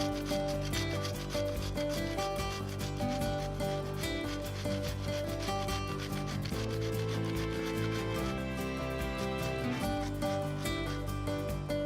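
Fresh, young, firm zucchini being grated for a chocolate zucchini cake, a continuous close rasping scrape against the grater in quick repeated strokes.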